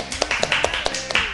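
A handful of brief, sharp claps or taps land at irregular intervals, fairly close and moderately loud, over a quiet studio background during a Japanese live talk stream.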